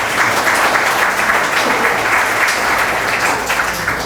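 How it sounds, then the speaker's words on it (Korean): Audience clapping at a reader editorial committee inauguration ceremony, dense and steady throughout, fairly loud and close, with no voices over it. "여러분 박수 한번 부탁드립니다."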